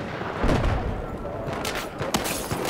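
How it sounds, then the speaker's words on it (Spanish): Gunfire crackles through a Battlefield 4 match, sharp shots and bursts overlapping in a dense, busy battle din that runs throughout, with a few louder nearby cracks. "Están disparando para acá, están disparando para acá."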